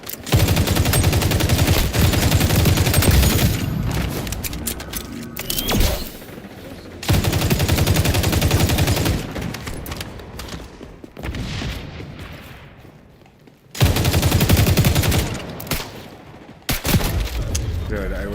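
Gunfire from the shooter video game XDefiant comes in loud, sustained automatic bursts with booming impacts, broken by short pauses between strings of shots, with a player's voice talking over parts of it.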